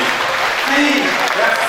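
Audience at a political gathering in DR Congo clapping, a loud sustained wash of applause with a voice briefly heard through it.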